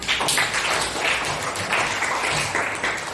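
A school class applauds during a maths lesson on cube and cuboid volume, a short burst of close, uneven clapping from a small group that carries on steadily to the end.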